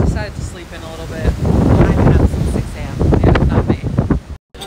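Strong gusting wind on a cruise ship buffets the microphone in a roaring, uneven rush, with a voice speaking underneath.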